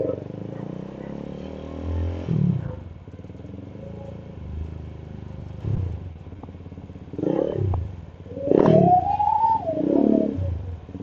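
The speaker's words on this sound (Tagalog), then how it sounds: "Ba, ayos yung tunog ng tambutso niya." Suzuki Gixxer motorcycle exhaust while riding on a city road, a low engine drone with several revving swells and one rising whistle-like surge near the end, fairly close and loud.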